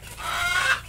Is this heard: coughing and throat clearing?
no